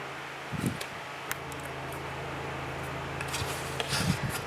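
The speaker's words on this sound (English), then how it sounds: "I'm sorry if you can hear the fan in the background." An electric fan runs in a warm upstairs room, a steady low hum with a soft airy whoosh underneath and a few faint handling bumps and rustles over it.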